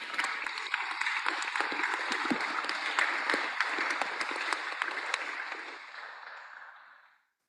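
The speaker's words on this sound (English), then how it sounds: "Give them a round of applause," Audience applause at the Pacific Dataviz Challenge 2025 award ceremony, a dense, steady crowd of clapping hands that holds for several seconds, then thins and fades out.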